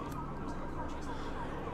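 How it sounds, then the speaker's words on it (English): Distant emergency vehicle sirens wail faintly in the background near a baseball field in Burbank during a game, blended into steady outdoor ambience. "Sirens in the background."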